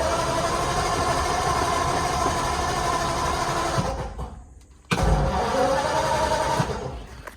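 A 1946 Ford Super Deluxe convertible's engine idles on a little choke, running with a steady, loud, close rumble that dips briefly before picking back up.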